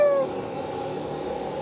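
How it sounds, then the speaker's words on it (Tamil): A kitten meows once at the very start in the ZEPETO video game, a short high cry fading into a steady low game-ambience hum, with no talk. "ஓ, இங்கே ஒரு பூனைக்குட்டி இருக்கு."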